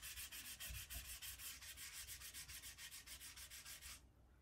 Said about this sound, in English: They come out with a bit of sanding.